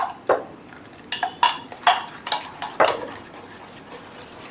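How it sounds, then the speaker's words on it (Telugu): Eggs for an omelette are beaten in a bowl, a utensil striking the sides in a series of irregular clinking knocks, close and moderately loud with no talking. "ఇలాగా ఎగ్స్ని మనం కొట్టి ఇలా వేసుకోవాలండి."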